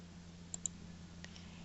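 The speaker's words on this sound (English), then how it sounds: "I'm going to double click on the font" A computer mouse double-clicks twice in quick succession, crisp and faint over a low electrical hum, followed by a single softer click, with no talking.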